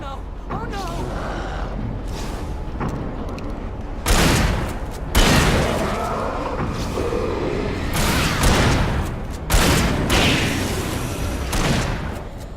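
Sustained gunfire from a fight in the video game Alan Wake, with bursts of shots and heavy booms going off across the whole stretch as people shout over the din.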